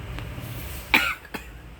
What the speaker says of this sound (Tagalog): medyo inuubo tayo